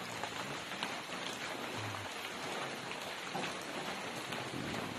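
Steady rain falling on a farm, a constant soft hiss of drops spread evenly throughout, fairly quiet and without any voices.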